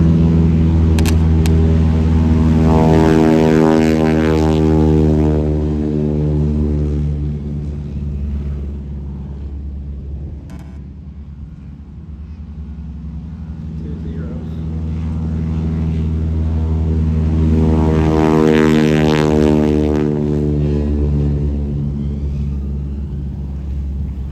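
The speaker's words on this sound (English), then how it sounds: "that Robinson helicopter over to the left side" A Robinson helicopter giving rides at a Pearl Harbor re-enactment: a loud, droning engine and rotor that swells as it passes close, fades, then swells again on a second pass.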